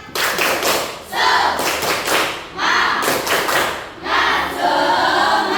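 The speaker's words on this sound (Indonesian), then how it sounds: "kita akan tepuk semangat dulu" Schoolchildren perform the 'tepuk semangat' spirit clapping routine in a classroom, a lesson on Indonesian cultural diversity. Loud bursts of group clapping come in rhythmic patterned sections separated by brief pauses, with thumps and taps mixed in.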